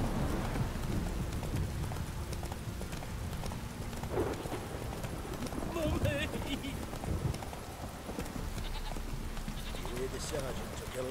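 Roach, the horse in The Witcher 3, gallops through rain with a busy, continuous patter of hooves under steady rain noise and game sounds.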